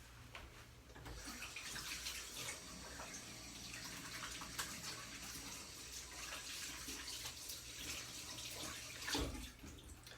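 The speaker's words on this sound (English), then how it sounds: "Wash your hands." Tap water runs steadily into a bathroom sink while hands are washed to remove hair gel, a continuous close splashing stream with faint shifts in the flow and no talking.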